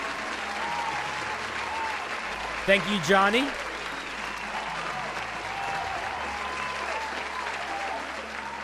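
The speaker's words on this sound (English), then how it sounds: "let's give a little round of applause" Steady applause from a crowd fills the whole stretch, with a brief spoken thanks and a few louder vocal bursts near the start.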